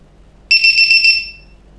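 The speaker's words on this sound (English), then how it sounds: "the noise you hear when you're flying when your battery is low" A short, high-pitched electronic low-battery alarm beep from a Kmart hexacopter drone sounds once for under a second, close and loud against a quiet background.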